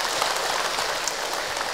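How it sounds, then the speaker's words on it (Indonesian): A mosque congregation applauds after a religious lecture on the Qurban sacrifice: a brief, even wash of many hands clapping together, steady and moderately loud with no single claps standing out. "Tepuk tangan untuk kita semua."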